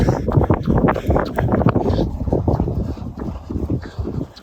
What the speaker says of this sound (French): le vent commence